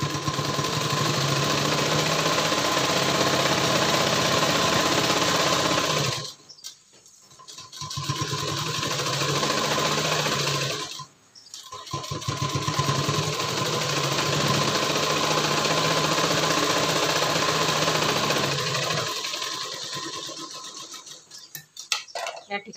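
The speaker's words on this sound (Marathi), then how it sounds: "आता या ठिकाणी आता आपण दापटीक मारून घेणार आहोत." Stitching a dart on a prince-cut designer blouse, a sewing machine hums and rattles in long continuous runs broken by two brief pauses, then stops near the end with a few faint handling clicks.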